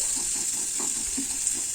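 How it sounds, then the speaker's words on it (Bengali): Onions for a chicken stew sizzle in a pan over a medium-low flame while being stirred, a steady close hiss with soft, regular scraping movements underneath. "পেঁয়াজটা মোটামুটি একটু নাড়াচাড়া করে নেব দু মিনিট মতো"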